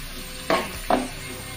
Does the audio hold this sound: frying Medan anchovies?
yes